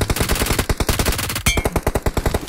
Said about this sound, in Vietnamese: có tiếng súng kìa